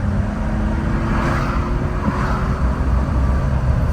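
A Jeep Wrangler Sahara accelerates through the gears, heard from inside the cabin as a steady, loud engine drone with road rumble. There is no talk and no clear break between gears.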